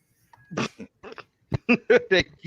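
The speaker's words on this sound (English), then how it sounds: "But Mongo, leave the dog alone, Mongo." A dog makes a series of short, close, snuffling barks and grunts in quick bursts, fairly loud against a quiet background.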